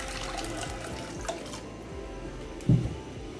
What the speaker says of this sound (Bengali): এবার আমি পানি দিয়ে ভিজিয়ে রাখবো।